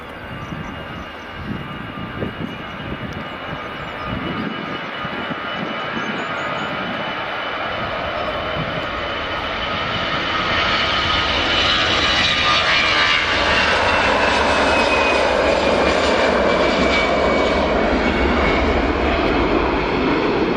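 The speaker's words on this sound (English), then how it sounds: "And that's EasyJet A320 up." An EasyJet Airbus A320 takes off from runway 24 at Edinburgh Airport, its engine roar building steadily and growing louder and fuller over about twenty seconds, heard from nearby with no voices.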